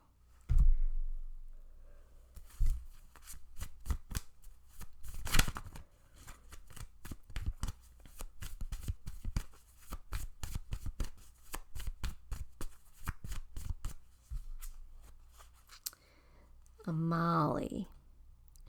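Tarot cards shuffled by hand during a card reading, a long run of rapid crisp riffles and clicks with brief pauses, close and fairly quiet, followed by a short spoken moment near the end.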